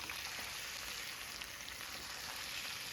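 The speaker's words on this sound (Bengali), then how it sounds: "আর এই পেঁয়াজটাকে আমি এমনভাবে ভেজে নেবো" Onions fry with chicken in a pan for a chicken and brinjal curry, a faint, steady, hissing sizzle that carries on without a break, with no voices heard.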